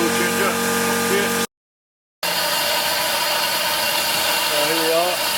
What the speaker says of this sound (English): Here we are, drilling again.